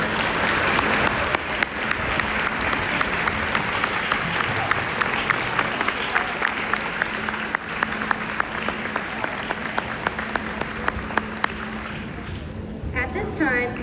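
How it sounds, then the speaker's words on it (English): An audience applauds at a school Veterans Day concert, with sustained, dense clapping filling a large room for over ten seconds before fading out. A voice comes in over the sound near the end. "let's give them a round of applause"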